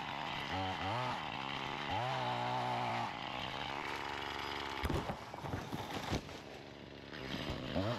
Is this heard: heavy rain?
no